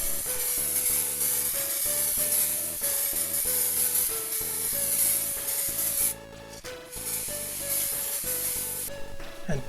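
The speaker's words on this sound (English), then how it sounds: "Spray the primer from every angle." Continuous hissing spray of primer from an aerosol can in steady bursts, close and loud, painting a Commodore 1541-II floppy drive case, over a background of music with a steady melody.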